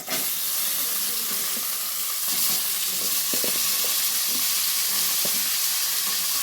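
Green beans dropped into hot oil in a pan for a potato and bean curry sizzle and fry steadily throughout, with a few soft clinks of stirring, close and loud, without speech.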